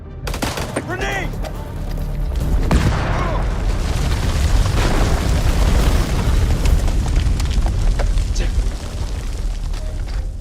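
A grenade blast from the video game House of Ashes erupts loudly, followed by a long rolling roar of debris and scattered gunfire that stays heavy and close for several seconds.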